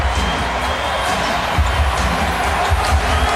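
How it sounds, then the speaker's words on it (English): Basketball arena crowd during a Raptors versus 76ers playoff game, a dense, steady roar of cheering and applause filling the whole stretch with a few louder low thumps. "a standing ovation for the crowd here"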